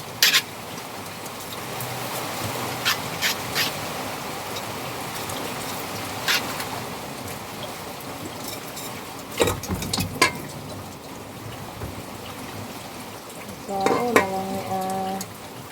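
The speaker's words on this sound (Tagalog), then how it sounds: "Hindi naman mo undang yung ulanan eh." Rain falls steadily in a dense, even hiss, with scattered knocks and clicks throughout and a short voice near the end.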